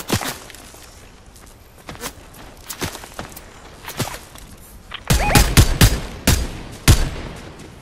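Fortnite video game gunfire, with sparse scattered shots early and then a louder cluster of sharp rapid bursts near the end, mixed with faint in-game footstep-like sounds and no clear talk.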